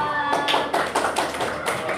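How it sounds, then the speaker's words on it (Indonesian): A class of students claps for a student group: a short run of uneven, close hand claps from a small group, with some faint voices underneath. "Tepuk tangan untuk kelompok 2"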